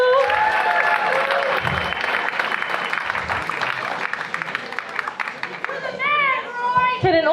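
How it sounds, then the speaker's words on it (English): Audience applause at a community dance show, steady clapping and crowd noise with children's voices and chatter mixed in, building and continuing throughout before a few cheers near the end. "one more applause for Roy and Kendall"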